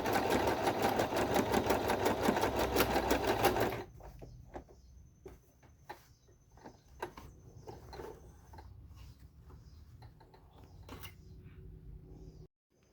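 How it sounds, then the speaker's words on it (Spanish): A sewing machine runs a straight seam on a shirt-style blouse, a dense fast mechanical whirr for about four seconds, then stops, leaving quiet handling clicks and rustles of the fabric nearby. "Ahora voy a hacer una costura recta para sujetar el pliegue que hice recién."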